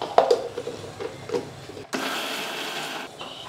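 A mixer grinder jar whirs as roasted lentils are powdered for millet laddu, first with a few short rattling pulses, then a steady loud grinding burst of about a second and a half.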